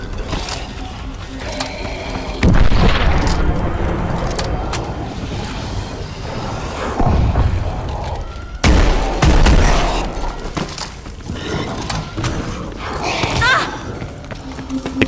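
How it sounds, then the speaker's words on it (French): Grenade explosions burst in a zombies video game on the Carrier map: several loud, heavy booms land a few seconds apart amid gunfire, clanks and other game noise, with a voice talking in the background. "C'est quoi ? Des grenades ?"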